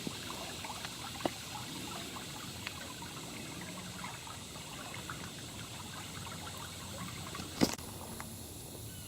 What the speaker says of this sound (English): the water is now flowing back down into the bayou.